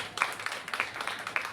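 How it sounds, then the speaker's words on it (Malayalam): Audience clapping at a free medical camp event in Munambam, Vypin, Kerala, a steady patter of many hands sustained through the short stretch at moderate distance, with no talk over it. "നമുക്ക് നല്ലൊരു കയ്യടി അവർക്ക് നൽകാം."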